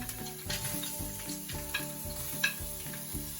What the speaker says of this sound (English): I'm using a spatula and I'm gonna stir it up